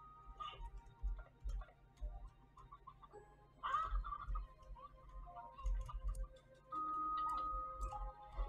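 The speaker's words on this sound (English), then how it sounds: "Oh, is it a different type of hen?" A hen clucking in the video game Slime Rancher 2, soft scattered clucks and ticking sounds at low volume among faint background game noises, with no one speaking.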